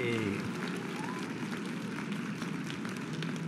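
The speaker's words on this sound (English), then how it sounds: "there's your applause your applause sound that you asked for" An applause sound effect plays on a LEGO chat livestream, giving a sustained crowd clapping and cheering wash over a brief voice at the start.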